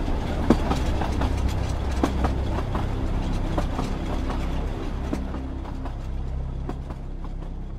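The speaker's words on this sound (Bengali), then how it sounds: "ট্রেনের আওয়াজে সুব্রতর চিৎকারের শব্দ প্রায় চাপাই পড়ে গেল।" A train runs steadily through a rainy night, with a loud continuous rumble and rattle and scattered clickety-clack beats, used as an effect in a Bengali horror audio story.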